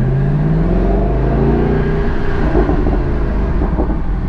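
A Mercedes-AMG engine revs in first gear at low speed through village bends, giving a loud, close, continuous rumbling growl with a rising note.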